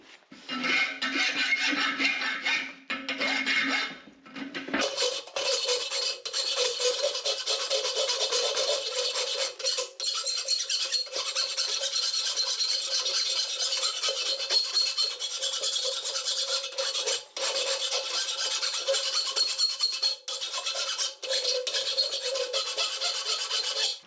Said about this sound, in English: we're gonna hot rasp all that, clean it up so we can get it ready to rivet